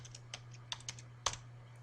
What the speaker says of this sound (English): I'll just type in Hayek